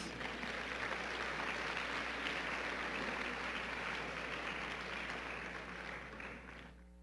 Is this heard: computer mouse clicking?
no